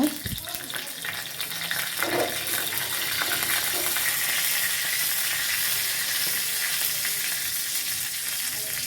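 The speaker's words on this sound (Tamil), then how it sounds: "கடுகு, உளுத்தம்பருப்பு போட்டு தாளிச்சிக்கலாங்க" Steady, close sizzling and crackling of mustard seeds and urad dal frying in hot oil, a continuous hiss with small pops throughout.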